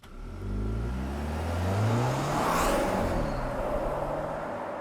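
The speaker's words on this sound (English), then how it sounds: "it's just a nice little rev sound that's going on" A car engine revs up as it approaches and passes close by, the pitch climbing and then easing off as it pulls away.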